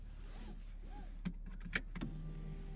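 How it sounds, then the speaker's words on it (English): Motorized seatbelt presenter arm in an Audi RS5 Competition extends with a faint, whirring electric hum, followed by a few small clicks and soft mechanical knocks inside the quiet cabin. "I've got my seatbelt presented by this fancy little arm here."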